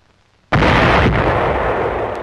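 A tank destroyer firing in WWII combat in 1944, one sudden heavy cannon blast after a moment of quiet, followed by a long, loud rumbling roar that slowly fades, close and forceful.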